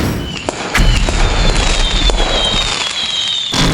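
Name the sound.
Diwali rocket firework launched from hand, cartoon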